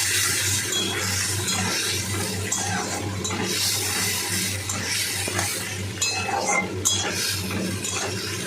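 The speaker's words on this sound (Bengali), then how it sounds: "পেঁয়াজটা ভালো করে ভেজে নেব।" Onion frying in a pan is stirred with a utensil, a continuous low sizzle under frequent clinks and scrapes of metal against the pan, close and fairly steady, with no talking.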